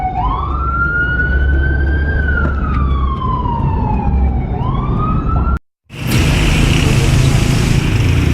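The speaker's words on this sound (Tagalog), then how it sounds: "Taxi, gilid ka muna para makadaan yung ambulansya." An ambulance siren wails loud and close as it pushes through traffic, its tone sweeping up and down for several seconds. It cuts off abruptly, leaving a wash of road noise.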